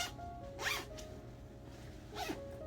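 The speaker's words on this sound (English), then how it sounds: "Okay, zip it up." Zipper of a carry-on bag being pulled closed in two quick, soft zips separated by a pause, faint and close against a low background hum.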